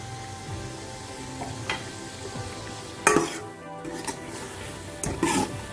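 Cut eggplant sizzles as it fries in a prepared spice masala, with a steady crackle broken by several sharp scraping stirs of a utensil against the pan.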